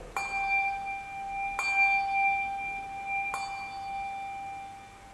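Three bright handbell strikes, evenly spaced, each ringing on with a sustained shimmering tone that carries between hits.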